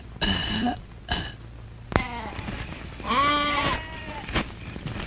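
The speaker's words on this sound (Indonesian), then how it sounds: "Dari tadi kambing kita ngebek terus." Several goat bleats from a farm goat, short wavering cries spaced across the clip, fairly close and clear over a low ambient hum.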